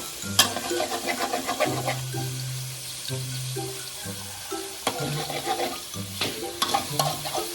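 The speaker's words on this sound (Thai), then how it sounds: "คลุกให้เข้ากัน จนไข่เริ่มสุกนะครับทำไปเรื่อยๆ" Egg being stirred and broken up as it fries in a pan, with continuous close sizzling and rhythmic scraping of a utensil, and low music underneath.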